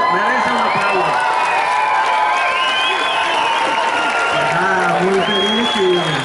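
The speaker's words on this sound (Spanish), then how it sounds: "Entonces mereces un aplauso." At a Popo Bike cycling race awards ceremony, a crowd claps steadily with whoops and cheers rising over the applause, while voices carry through.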